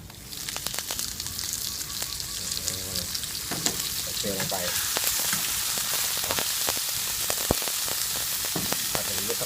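Scallops hit a hot pan over low-to-medium heat, sizzling in a steady, loud, dense hiss, with scattered utensil clicks and scrapes as they are stir-fried.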